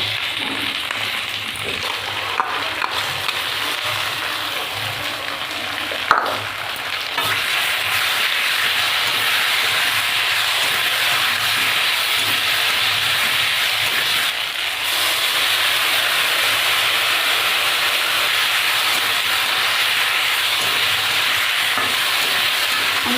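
Potatoes, green chillies and cumin paste fry in oil in a pan for a Bengali fish curry, a steady, close, continuous sizzle with faint stirring that holds throughout with no talk.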